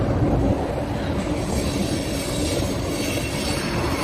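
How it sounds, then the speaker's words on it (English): A train rolls past on rails, a loud continuous rumble with wheel noise and faint squeal holding steady throughout, close to the listener. "Oh, look, a train. A train."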